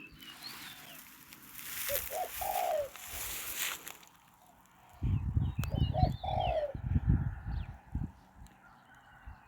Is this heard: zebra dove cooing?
yes